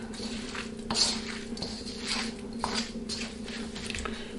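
Homemade dog food mixture is stirred in a bowl, giving soft, wet squishing and sloshing strokes that repeat steadily over a low background hum.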